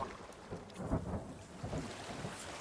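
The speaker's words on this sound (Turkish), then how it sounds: "Aha yağmur yağıyor." Steady rain patters in a dense wash, with a low thunder rumble rolling underneath, in the video game The Forest; no voices.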